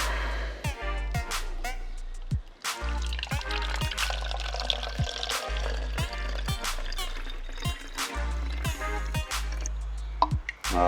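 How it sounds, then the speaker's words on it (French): Water runs into a small spray bottle of about 50 centilitres, making a gurgling, splashing pour with repeated clicks and knocks over a low steady hum, close and continuous. "Je vais le remplir d'eau."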